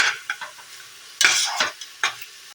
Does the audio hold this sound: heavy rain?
no